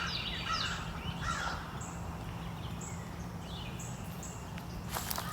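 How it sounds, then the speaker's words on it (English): Birds call outdoors in a peaceful natural setting, a handful of short chirps and calls scattered over a steady hiss of ambient noise, moderately distant. "Are these birds singing for me?"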